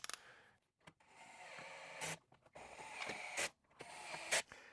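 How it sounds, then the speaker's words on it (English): A 7mm socket on a low torque setting snugs bolts into a Jeep JL fuse box, heard as four short whirring bursts separated by quiet gaps, fairly faint and close. "So we're going to use our 7mm socket on a low torque setting."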